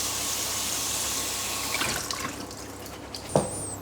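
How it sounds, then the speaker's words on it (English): Soaked red lentils rinsed under a running kitchen tap, with a steady rush of water that trails off into a few splashes and a short clunk near the end. "And then what I do is I rinse them well."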